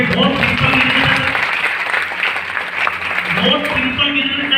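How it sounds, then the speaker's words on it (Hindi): A seminar audience claps loudly in a hall, the applause mixed with voices and room noise throughout. "ताली जोरदार वाली बजाइए।"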